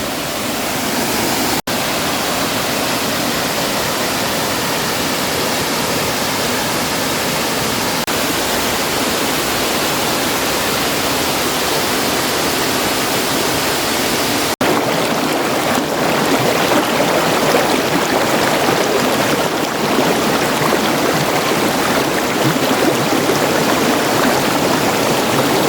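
Kemmanaballi waterfall near Jalsoor, Sullia, roars with heavy rushing water in a steady, dense, loud wash that continues unbroken throughout, with no voices.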